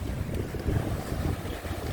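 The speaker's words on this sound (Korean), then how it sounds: "바람까지 심하게 불어가지고요" Strong wind gusts sweep across the seaside rocks at Adeulbawi in Jumunjin, Gangneung, during a float-fishing outing, producing a steady, close roar of wind buffeting the microphone with no one speaking.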